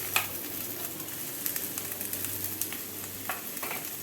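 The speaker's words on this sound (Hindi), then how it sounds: "इसको हम लोग थोड़ा सा हल्का सा फ्राई कर लेंगे, गुलाबी होना।" Onion frying in a pan, a continuous close sizzle and crackle with light stirring scrapes and a faint steady hum underneath, with no talk.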